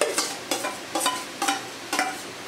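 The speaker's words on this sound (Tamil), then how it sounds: "வெங்காயம் தக்காளி வதங்கின பிறகு நம்ம ஷெட் பண்ணி வச்சுருக்கிற சிக்கனை வந்து இது கூட சேர்த்துடலாம்" Chicken being stirred into a pan of frying onion and tomato, with a spoon scraping in regular strokes about twice a second over a steady close sizzle.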